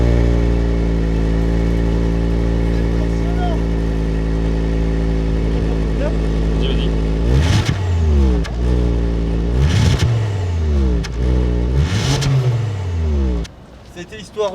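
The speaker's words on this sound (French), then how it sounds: "si je peux faire un petit démarrage, qu'on entende le bruit" A Volvo V70 R Design five-cylinder idles steadily, then revs sharply three times in quick succession, each blip rising and falling back, with a brief spoken prompt just before the revs.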